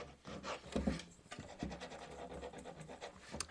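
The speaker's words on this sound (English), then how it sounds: "if you're sanding to distress, kind of going across like that" Soft rubbing and scraping of sandpaper on wooden drawers, repeated strokes, quiet and close, with faint breathing.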